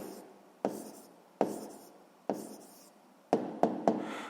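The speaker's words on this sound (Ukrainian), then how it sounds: "Пишемо відповідь." A pen writes out a maths answer by hand on paper, with several distinct taps and short scratching strokes followed by a quick cluster of taps.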